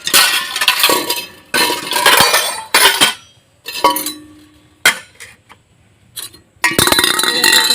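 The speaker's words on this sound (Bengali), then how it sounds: "থালা বাসনগুলো মেখে রেখেছিলাম এখন সব এক এক করে গুছিয়ে হচ্ছে" Metal plates, pots and utensils are gathered and stacked after washing, with bursts of clattering, clinking metal separated by short pauses, close and fairly loud.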